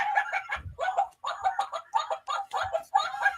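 Chickens cluck in a quick, continuous series of close, lively calls with short pauses between bursts.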